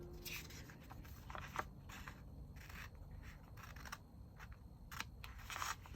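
Scissors cut three boxes out of a paper winter sticker sheet for a planner page, a quiet run of small snips and papery scrapes, close up and intermittent with no talking.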